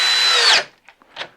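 A DeWalt XR drill/driver with a 1/2 inch chuck drills at high speed, a loud steady whine that stops abruptly after about half a second, leaving a few faint knocks.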